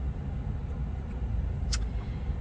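Low steady rumble inside a parked or idling car, a constant close engine and road drone with a faint brief click partway through, no talk.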